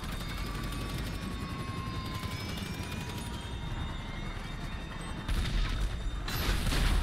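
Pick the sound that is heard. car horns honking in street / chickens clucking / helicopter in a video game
helicopter in a video game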